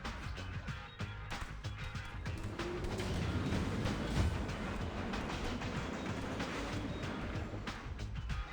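Train in the Mutant Turtles video game, a continuous heavy rumbling roar with rhythmic rail clatter, loud and steady throughout, with no talking.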